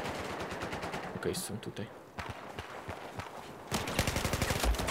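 Rapid automatic gunfire from the video game Battlefield 4, with dense bursts of shots that stop and start in uneven volleys and grow louder near the end, while a player talks briefly over the shooting.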